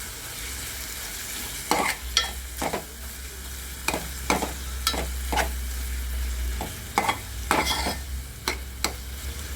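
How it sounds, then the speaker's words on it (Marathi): Ginger-garlic paste fries in hot oil, a steady sizzle with sharp repeated scrapes and clinks of a spoon stirring against the pan, heard alone and close. "जेव्हा गरम व्हायला लागले तेल सुटतं आता यामध्ये आपण अद्रक लसूणची पेस्ट केली ना ती टाकायची"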